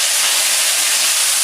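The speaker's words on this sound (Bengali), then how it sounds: "আমার এই যে শাক ভাজি হচ্ছে, আলু ভাজি হচ্ছে" Greens and potatoes fry in a pan, a steady loud bright hiss of sizzling oil that holds evenly without pause throughout.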